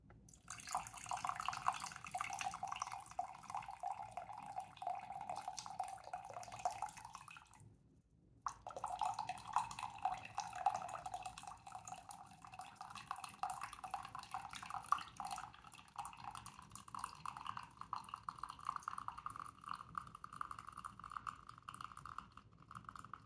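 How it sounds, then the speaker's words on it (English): Water poured into a container during an ASMR craft session, a soft steady trickling and splashing that runs almost continuously with one brief pause, heard close and quiet with no talking. "let me put the water in here first"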